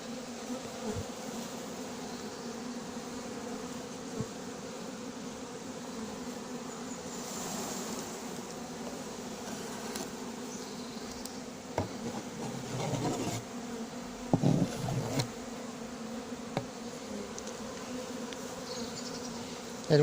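A steady swarm-like drone of honeybees fanning at the hive door carries on for a long stretch, faint and close, broken by occasional soft thumps and rustles of handling the hive roof.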